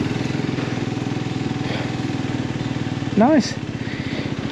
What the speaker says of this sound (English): on idle it's a really quiet sounding engine